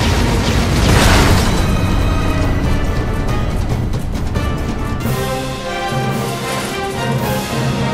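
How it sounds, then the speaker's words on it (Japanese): Allied artillery bombarding the Gargoyle Gate in Dragon's Crown, loud repeated booms and blasts layered over dense, busy battle noise with clanking and bursts, sustained throughout. "味方の砲撃がガーゴイルゲートを攻撃する。"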